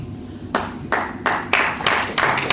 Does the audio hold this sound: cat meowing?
no